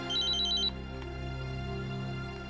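A telephone rings in a Hindi household drama scene, with a short burst of electronic trilling rings followed by a steady background hum, no talk over it.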